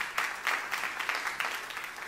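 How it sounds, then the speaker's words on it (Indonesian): Congregation applauding in a church during a sermon, a fairly quiet, steady patter of clapping with brief bursts, slightly distant. "tepuk tangan yang meriah untuk kemuliaan Tuhan"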